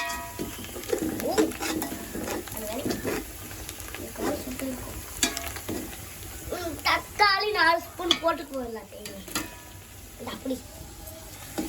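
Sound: stirring biryani masala in a pot

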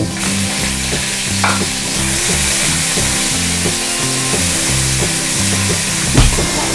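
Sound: stir-frying chili, garlic and pork in a pan

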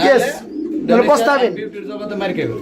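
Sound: black fancy pigeons cooing

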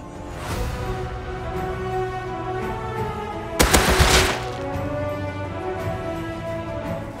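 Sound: gunfire with explosive ammo in the video game Rust

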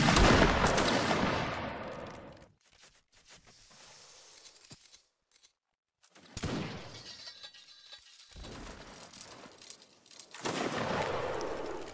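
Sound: musket volley fire in video game Mount and Blade Napoleonic Wars

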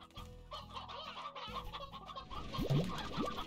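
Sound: chickens clucking in a video game (Slime Rancher)

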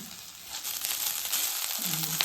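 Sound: rice being fried and stirred in ghee

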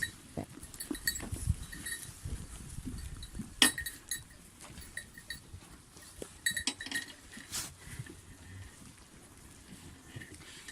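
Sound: goats among sheep eating

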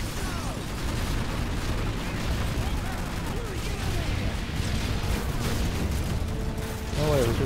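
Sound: gunfire in Modern Warfare 3 video game

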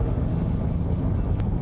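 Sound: Range Rover Sport hybrid SUV driving

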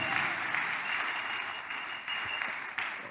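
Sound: applause

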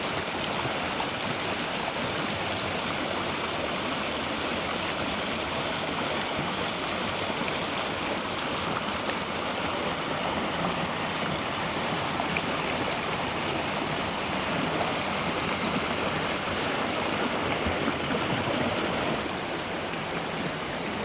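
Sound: waterfall flowing in a rubber plantation

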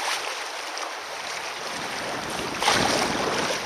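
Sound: boat's self-bailer draining water

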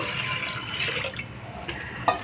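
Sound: water being poured onto soaked toor dal

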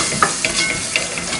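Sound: flour being stirred and roasted in butter

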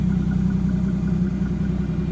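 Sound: car engine idling with exhaust

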